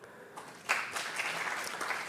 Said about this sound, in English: Please give another round of applause to Dr.